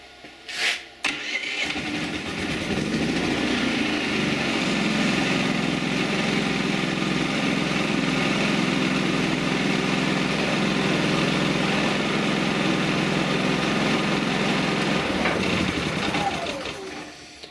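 A small powersports engine on a lithium starting battery cranks briefly, catches and settles into a steady, loud idle that runs evenly for over ten seconds before tapering off near the end.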